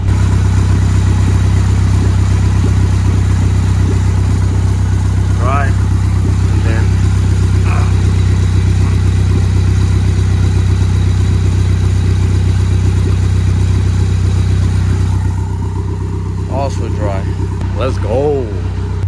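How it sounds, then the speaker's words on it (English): A Honda Civic with a D16 engine and turbo idles steadily, a low, even rumble with a faint whine, while someone talks over it in short bursts near the end. "Car is idling beautiful."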